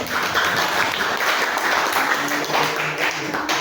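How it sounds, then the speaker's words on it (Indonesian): Classroom applause for a group of students after their poster presentation, a steady wash of clapping from many hands filling the room without pause, with some voices mixed in. "Aplaus dulu untuk kawan-kawan ini."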